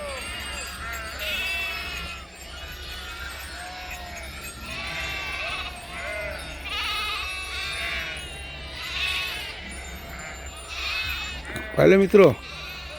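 Sheep in Balumama's travelling flock bleat repeatedly at an evening camp in Jadhavwadi, Pune district, a steady overlapping chorus of many animals near and far, with people talking throughout and a brief loud knock near the end.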